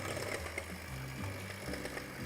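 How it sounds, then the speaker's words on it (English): An electric mixer whisks egg whites with cream of tartar on its lowest speed, giving a steady, soft motor hum with no breaks. "We'll put the cream of tartar with the egg whites, and then we'll start to whisk it."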